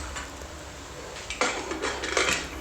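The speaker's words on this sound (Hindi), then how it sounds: "अब मेरे जो मटर रखे हुए थे मैंने मटर डाल दिए।" Peas drop into a metal cooking pot with a short clattering rattle and a few scraping knocks of utensils, close and fairly quiet, with no talking.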